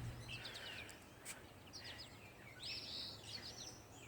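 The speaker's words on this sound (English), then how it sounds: "The birds have really been chirping it up this morning." Birds chirp on a foggy morning in a residential backyard in Ithaca, New York, faint and somewhat distant, with scattered short tweets and trills over a steady outdoor hiss.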